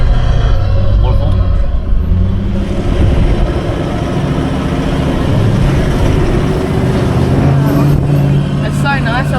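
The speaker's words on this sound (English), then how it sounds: "Cars chugging along." A car engine labouring up a steep road toward a waterfall, a continuous low drone running throughout, with people talking over it.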